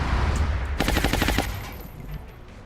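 Gunfire in the XCOM Long War video game: a rapid automatic burst of about ten shots in quick succession, loud and close, then a fading tail.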